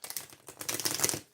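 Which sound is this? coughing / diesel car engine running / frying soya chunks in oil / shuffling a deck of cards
shuffling a deck of cards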